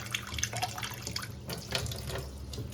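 Water pours and splashes into a container in a home kitchen, a close, steady trickling with small drips and no talk.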